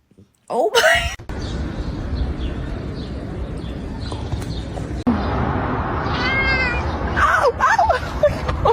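A cat meows several times, loud and near, with drawn-out wailing cries at the start and again toward the end over a steady background rumble.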